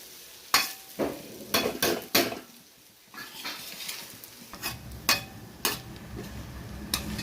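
Kizhangan fish puttu stirred in a frying pan: a soft sizzle with repeated sharp scrapes and knocks of the spoon against the pan, irregular and close, with no voices.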